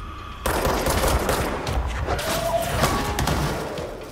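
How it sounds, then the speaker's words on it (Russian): Gunfire and heavy impacts from the video game Control, a dense burst of shots and thuds starting abruptly and continuing loudly with echoing tails, no talk. "Обычных чуваков просто убьем из пистолета."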